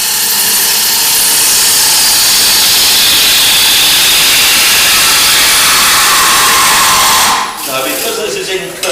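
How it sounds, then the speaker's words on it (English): A 3/8 bowl gouge cuts wood on a spinning lathe, a loud, continuous, hissing scrape that holds steady for several seconds, then stops abruptly as the tool lifts away. "I'll cut come in here now with the 3/8 bowl gouge and thin this down"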